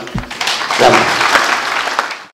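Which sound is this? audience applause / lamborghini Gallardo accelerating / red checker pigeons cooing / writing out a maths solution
audience applause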